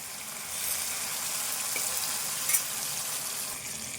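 Cooked amaranth leaves drop into hot tempering oil and fry with a steady, soft sizzle and a faint crackle, heard close up with a small clatter partway through.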